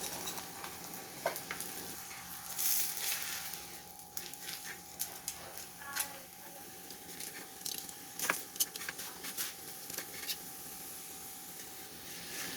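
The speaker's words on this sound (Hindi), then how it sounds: "हम इसे मीडियम आंच पे फ्राई करेंगे।" A missi roti fries in a pan over medium heat, giving a soft, steady sizzle with scattered clinks and scrapes throughout.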